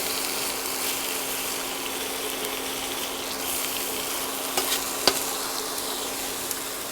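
Chicken breasts fry in a pan with a steady, even sizzle close by, a constant hiss broken by a couple of small pops and light clicks.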